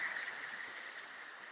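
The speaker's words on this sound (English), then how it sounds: "Well, that's a waterfall." Steady wash of falling water from a waterfall beside a remote, seldom-traveled road in Mexico, a continuous faint hiss with no other sounds.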